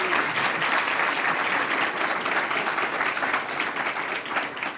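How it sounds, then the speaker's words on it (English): Sustained audience applause for a children's group after their stage performance at a community awards event, a full, even roar of many hands clapping for several seconds without speech. "Let's give the Okotoks group from Wootton another round of applause for that great performance."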